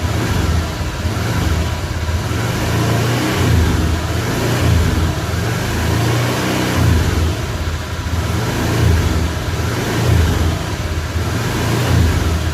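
A Honda automatic scooter engine revs in repeated surges, its note rising and falling over a steady loud drone with no voices, while the charging of a weak battery is being checked.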